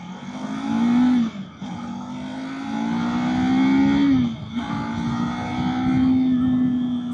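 A 2024 Kawasaki Z500 motorcycle engine under a rider, revving and pulling through gears with rising pitch, two short breaks at the shifts, fairly close and without talk.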